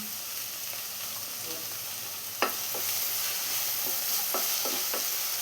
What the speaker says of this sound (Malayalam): ഇനി ഇതെല്ലാം കൂടെ നന്നായി ഒന്ന് വഴറ്റിയെടുക്കണം